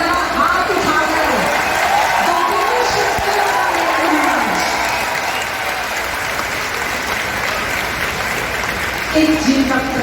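An audience at a hospital inauguration event gives sustained, loud applause with scattered cheers and whoops, a dense roar of clapping that carries on steadily while voices rise faintly within it.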